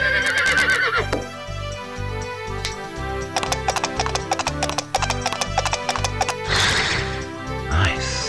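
A horse in a 1998 CD-ROM game neighs and clip-clops, with a whinny at the start and another near the end around steady hoofbeats over a musical backing.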